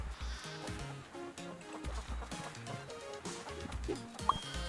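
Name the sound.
goat bleating in video game Moving Out 2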